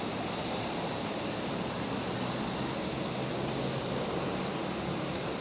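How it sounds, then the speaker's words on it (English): A Fokker 70 jet that has just landed at Brisbane airport gives a steady, broadband engine roar that holds at an even loudness throughout, heard from a distance with no voices. "this is a Fokker 70 that's just arrived"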